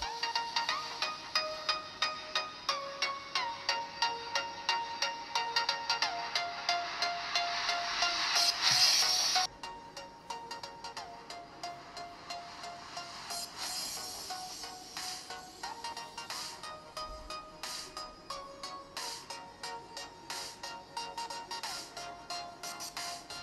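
Ringtone demo played back to back on two Asus phones, a Zenfone Max M1 and a Zenfone Lite L1, through their built-in speakers: a repeating melodic tone pattern, the first part louder and the second notably quieter, with no speech.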